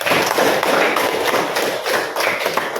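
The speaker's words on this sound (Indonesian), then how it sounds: "Nah, aplaus dulu untuk semua kelompok." Classroom applause for student groups, dense continuous clapping from many hands filling the room for a few seconds, steady and fairly loud with no clear voices over it.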